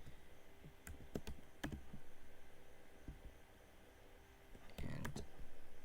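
Typing on a computer keyboard while coding: a few scattered close key clicks, then a short burst of keystrokes near the end, over a faint steady hum.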